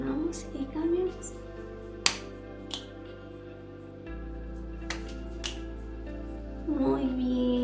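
A group does a rhythmic clapping and finger-snapping exercise during a session; a handful of sharp, sparse claps and snaps sound over steady background music.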